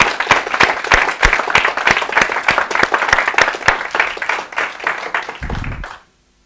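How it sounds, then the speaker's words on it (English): An audience at a physics lecture applauds the conference organizers with a full round of clapping, individual sharp claps standing out, then it stops abruptly into silence. "it would be appropriate to applaud them for the great work that they've done"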